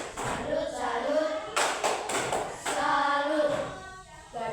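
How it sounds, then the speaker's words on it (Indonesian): A primary school class in Indonesia performs a rhythmic 'tepuk salut' clap chant, with bursts of group hand clapping between children's and a teacher's chanting voices. "tepuk salut dulu untuk Yusita"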